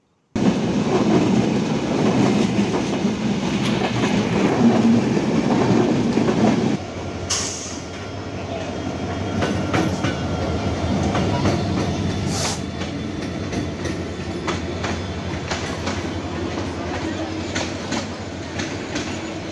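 Chitra Express passenger train running on Bangladeshi tracks, heard from on board: a steady, loud rumble and rail clatter throughout, with the tone shifting partway through.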